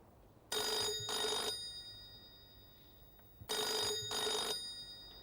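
Two bursts of an electronic telephone ringing in an office, each a double trill pulse, separated by a few seconds of quiet room tone, clear and close with no voices.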